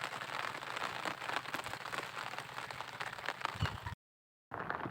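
Heavy rain pours during net fishing, a dense, steady hiss and patter of drops that cuts out briefly just before the end and then resumes, with no voices.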